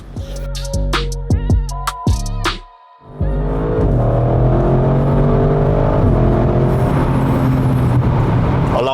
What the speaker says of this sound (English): I'm going to jump in this beautiful blue Audi RS6 and go for a ride.